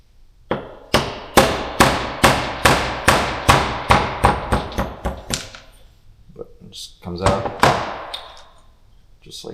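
Hammer blows drive a punch against a small spring pin on an Aces EFI BlackJack distributor, about a dozen sharp metallic strikes in a steady rhythm, then a pause and a few more hits, close and loud.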